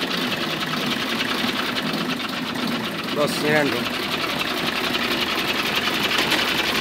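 A 1992 HMT 3511 tractor engine runs steadily in a continuous rumble close by, with a person speaking briefly over it.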